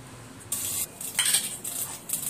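A metal ring set down inside a heated pressure cooker, giving a few bright metallic clinks and scrapes in quick succession, close and fairly quiet, with no talking.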